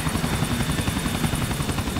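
Helicopter in the video game GTA 4, its rotor thumping in a steady, loud drone with a rapid pulsing beat that runs without a break.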